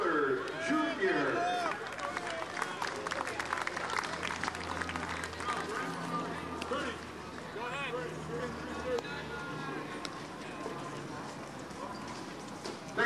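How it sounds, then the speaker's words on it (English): A baseball crowd applauds an American Legion state commander at a ceremonial first pitch, with scattered clapping and loud crowd murmur running beneath voices and announcer chatter throughout. "Let's have a round of applause for Robert Miller Jr."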